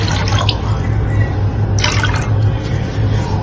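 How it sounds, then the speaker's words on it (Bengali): Water pours steadily into a cooking pot to start a sugar syrup for rasgulla, a close, continuous splashing trickle with brief brighter spurts near the start and midway. "জল এক কাপ দিয়ে দিচ্ছি এক কাপ চিনি আরো এক কাপ জল দিতে হবে"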